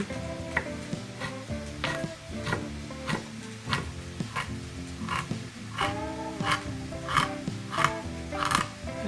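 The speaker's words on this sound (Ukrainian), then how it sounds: "продовжуємо нарізати карасики" A sharp knife slices crucian carp on a board for a sour cream and onion dish, giving regular firm chops about every half second to second over a steady tonal background hum.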